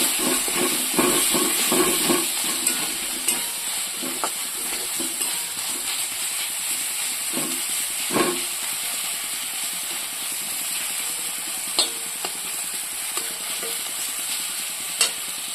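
Spices and chili powder frying in a pan as they are stirred, with a continuous sizzling hiss and repeated scraping and clattering utensil strokes throughout, close up and with no talk.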